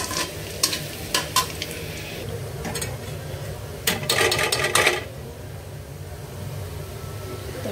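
Garlic fries in a pan, making a low, steady sizzle while a spoon stirs and scrapes it in several clattering bursts against the metal, with quiet moments between them.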